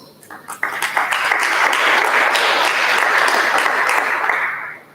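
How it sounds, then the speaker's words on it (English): Applause from an audience at a matric awards ceremony, offered in thanks to teachers: a dense, steady wash of many hands clapping that swells quickly, holds evenly for several seconds, then fades out near the end. "would like you all to give them a round of applause"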